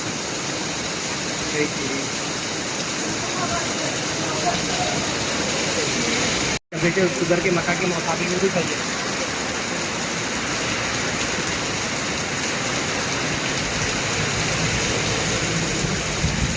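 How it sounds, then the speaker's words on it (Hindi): Heavy rain pours down in Turkey, a dense, steady roar of falling water that fills the whole stretch, briefly cutting out once partway through, while a voice talks over it. "आप देख सकते हैं कितनी तेज़ बारिश हो रही है"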